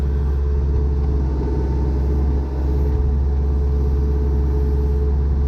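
A backhoe-bulldozer's diesel engine runs steadily as the machine is driven back in, a loud, constant low rumble with little change across the few seconds.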